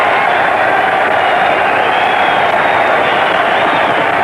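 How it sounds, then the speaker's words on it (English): A boxing crowd roars steadily as a heavyweight falls in the Dempsey vs Willard fight, a dense, loud wash of cheering that fills the whole stretch without letup. "The crowd surges to its feet."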